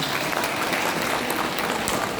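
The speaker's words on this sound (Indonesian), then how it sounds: "Tepuk tangan membuat kita semangat." An audience at a motivational talk on work and leadership applauds, with a steady, dense wash of clapping heard close and continuous throughout, with no talk over it.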